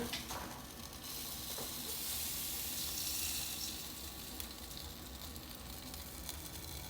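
A steady, fairly quiet sizzle and hiss of buffalo wings cooking inside a Ninja Foodi digital air fry oven, continuous with no voices.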